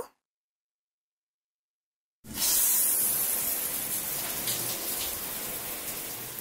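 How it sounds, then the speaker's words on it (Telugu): After a short silence, rain comes in abruptly as a dense, even hiss that stays loud and steady to the end. "వర్షం వస్తోంది."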